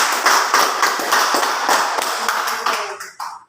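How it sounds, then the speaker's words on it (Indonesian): An audience applauds a teacher at an educational gathering, dense continuous clapping that fills the room and then tapers off to a few last claps. "kita beri aplaus untuk ini"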